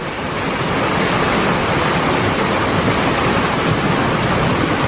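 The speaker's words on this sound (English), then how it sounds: "It's just hailing and flooding and thunderstorms like crazy right now." Heavy rain pours steadily outside during a thunderstorm with hail and flooding, a dense continuous roar that stays loud and even throughout with no talking.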